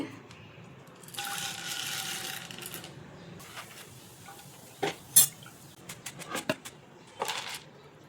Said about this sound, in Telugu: ఇప్పుడు పుట్నాలు వేపుకుందామండి.